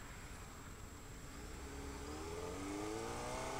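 A motorcycle engine revs during a downshift, a steady loud drone that climbs in pitch toward the end as the clutch is let out and the revs rise.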